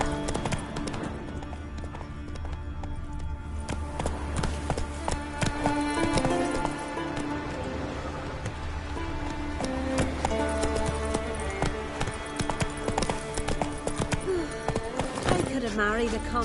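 Roach the horse gallops in The Witcher 3 Wild Hunt next-gen edition on PS5, with rhythmic clip-clopping hoofbeats running steadily under in-game music.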